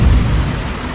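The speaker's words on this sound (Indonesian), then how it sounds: "Hujan masih turun dengan derasnya." Heavy rain pours down in a dense, loud, unbroken roar with a deep rumbling low end, a steady downpour filling the whole second.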